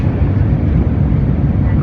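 Loud, steady low roar of an airplane cabin before landing, a constant engine rumble with no breaks over a couple of seconds.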